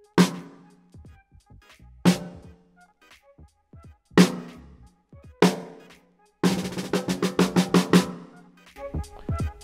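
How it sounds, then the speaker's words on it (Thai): A snare drum from a hybrid kit mixing electronic and acoustic drums, struck in single sharp hits spaced about a second apart, then a fast run of rolled strokes near the end, close and loud with no talking. "สแนร์จะเป็นเสียงประมาณนี้ครับ"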